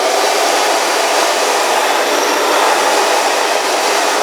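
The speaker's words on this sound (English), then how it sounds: "take my blow dryer" A blow dryer runs close and steady at full power throughout, a loud continuous rushing whir during a haircut styling a long, shaggy bob.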